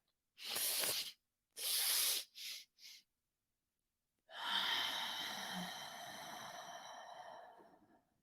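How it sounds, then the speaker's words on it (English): Several short breathy bursts of air, then a long, slow, steady exhale that fades out over several seconds, close and clear with no talk. "And then you just exhale like just normal. I usually like to exhale a little slow."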